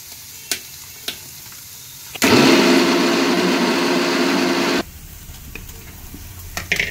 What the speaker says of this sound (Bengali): পনিরগুলো এবার ভেজে নিচ্ছে।